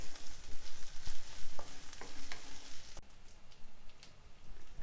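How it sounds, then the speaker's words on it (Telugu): Green chillies sizzling and frying in a pan, a dense continuous crackle with occasional stirring knocks, close and steady throughout. "ఇది పచ్చిమిర్చి కూడా కొంచెం వేగనివ్వాలి."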